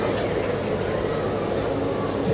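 A steady, loud rumble of a train rolling by nearby at a station, continuous and dense, with faint voices and a station announcement underneath.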